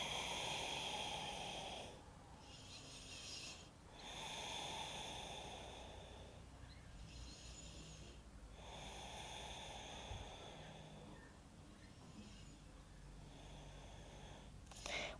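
Slow, deep breaths taken during a standing stretch, several long inhales and exhales in a steady rhythm, close and soft with no talking.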